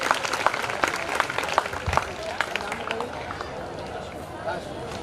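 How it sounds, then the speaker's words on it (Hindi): Applause from an audience at a school prize announcement ceremony, scattered clapping with crowd chatter and talk layered over it, fairly steady and moderately loud throughout. "तालियां बजती रहनी चाहिए"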